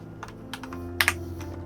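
Light computer keyboard typing, a handful of soft key clicks ending in two sharper taps, close and quiet over a low steady hum.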